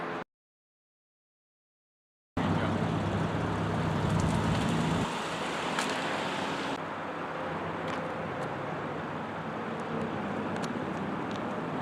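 A car rolls over a Nokia Lumia 920 phone placed face up in front of its tire, a steady engine and roadway rumble after a brief silence, with a louder low hum early on that later drops away.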